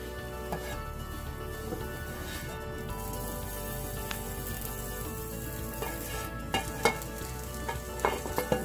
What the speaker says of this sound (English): I'm going to saute this till the mushrooms are light brown and not completely wilted